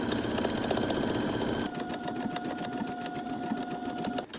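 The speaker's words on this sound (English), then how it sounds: "I'm going to flip this and do a zigzag stitch going this way and then up here" Sewing machine running a zigzag stitch along tote bag straps, a close, fast mechanical whir with a pitch shift partway through, alone.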